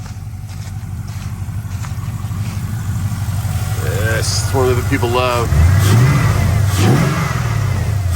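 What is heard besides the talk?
Peterbilt 389 truck engine revving on drive-by cable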